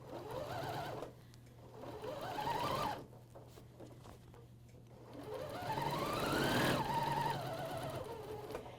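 AirThread 2000D professional serger stitching a curved bathrobe seam, a soft whirring buzz that speeds and slows in two bursts separated by a brief pause, close and fairly quiet with no talk.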